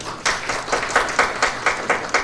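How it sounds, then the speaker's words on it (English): An audience claps for a rider with multiple sclerosis: a short burst of loose, fairly close handclaps in an uneven rhythm, with no voices over it. "You should all applaud that one"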